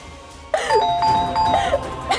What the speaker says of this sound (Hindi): घंटी कौन बजा रहा है?